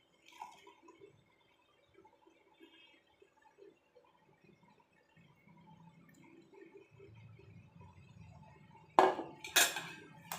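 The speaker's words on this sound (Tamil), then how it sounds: "நம்ம இப்போ இது டம்ளரில் வடிகட்டிக்கலாம்." Boiled horse gram water is poured through a strainer into a steel tumbler, heard as quiet trickling and liquid filling that builds slowly, then ends in two sharp metallic clinks of the utensils close by, with no talking.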